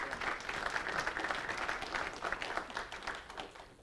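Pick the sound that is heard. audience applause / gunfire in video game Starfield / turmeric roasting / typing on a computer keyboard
audience applause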